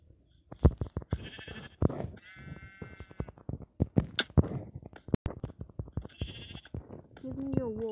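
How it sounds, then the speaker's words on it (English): Sheep in the Minecraft video game bleat in several short wavering calls amid a busy stretch of clicks and game noises, with a person talking between them. "Okay, my first sheep."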